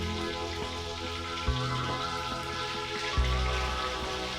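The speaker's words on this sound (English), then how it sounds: "When you're frying them, I like to like shake it a little bit, and that'll help make sure that there's butter underneath" Food fries in butter in a pan, giving a steady, even crackling hiss that carries throughout at moderate level, with a low tonal hum beneath and a couple of brief louder bumps.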